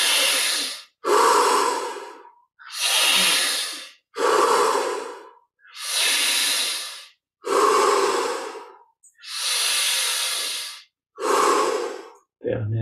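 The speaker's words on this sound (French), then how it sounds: "Cinq dernières respirations. Dernière chance de saturer en oxygène et en énergie." Deep rhythmic breaths during a yoga breathing exercise, eight loud, close, forceful inhale-exhale bursts of about a second each with short pauses between, heard alone without talk.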